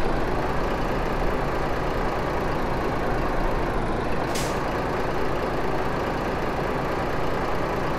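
A truck engine rumbles steadily while driving in Euro Truck Simulator, a continuous low drone with one brief hiss partway through.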